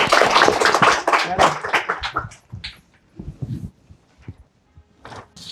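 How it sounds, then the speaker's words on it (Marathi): A crowd bursts into loud applause for a girl named first-prize winner of a competition. The clapping is dense for about two seconds, then breaks into scattered claps and thuds, fading into near quiet. "जोरदार टाळ्या"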